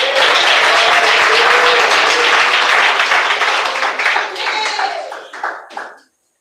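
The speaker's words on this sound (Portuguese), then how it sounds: "recebemos ela com palmas e glória a Deus." Loud, dense applause from a church congregation welcoming Sister Adriana to read scripture, with a voice speaking over it before the clapping thins out and stops abruptly.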